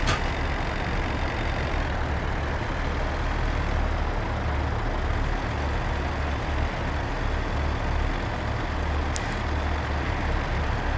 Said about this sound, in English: fire truck was called and headed to this fire